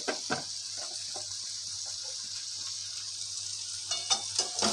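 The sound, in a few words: sautéing green chilies and spices in a pan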